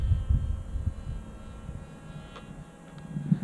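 Sweepwings Juggernaut RC plane motor running steadily at just under half throttle, a low droning hum with small surges, fairly close and continuous, with no talking.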